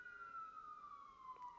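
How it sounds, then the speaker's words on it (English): A faint, distant emergency siren slowly glides downward in pitch outside, steady and continuous over quiet background hum, with no talk. "I now hear multiple sirens outside"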